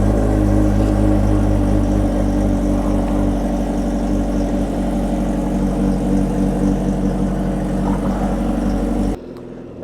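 A carbon-bodied Kawasaki Ninja H2R supercharged motorcycle engine runs loud and close, a dense steady roar with slight rev swells, before cutting off abruptly near the end, with no voices.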